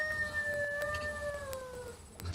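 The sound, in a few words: possible coyote howl in a recording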